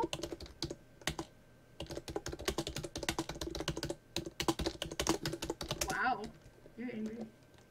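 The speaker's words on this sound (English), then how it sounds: "I'm not that angry, I'm just typing normally." Fast, forceful typing on a computer keyboard during a Minecraft session, dense bursts of clattering keystrokes with short pauses, followed by a bit of speech at the end.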